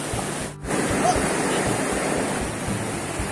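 Rushing river water at the base of a waterfall in a ravine, a loud steady roar filling the scene with a brief dip near the start, close and continuous, no talk over it.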